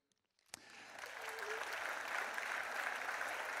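A conference audience at the AMRAE 2018 meetings bursts into applause for Philippe Donnet after a sharp opening clap, swelling into steady, dense clapping from a large crowd that continues throughout without talk.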